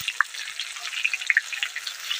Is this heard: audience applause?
no